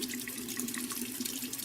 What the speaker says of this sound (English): I just like to turn the water on a little bit